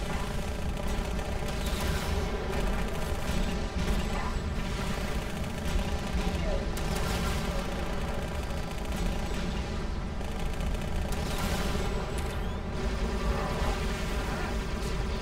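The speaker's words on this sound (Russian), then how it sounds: "О, так ты еще и шмаляешь периодически." Sustained, dense gunfire and explosions roar through a battle in the video game Halo: Spartan Assault, a steady loud barrage with rapid overlapping shots and no pauses.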